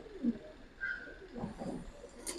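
A white pigeon coos softly in a few low, throaty bursts, close by and faint, with a brief higher chirp between them and no talking.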